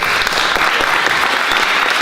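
Dense applause from a theatre audience at a forum theatre event, steady and continuous throughout with no voices rising above it.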